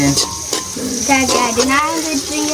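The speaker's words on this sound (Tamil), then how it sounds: "வெங்காயம் நல்ல வடிவா வதங்கி கொண்டு" Onions sautéing in a pan, a close, continuous sizzle with stirring and scraping throughout, loud and steady.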